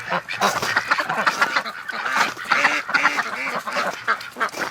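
Several ducks in a breeding flock quack loudly and continuously nearby in a pen, overlapping calls in a busy flock with no talking.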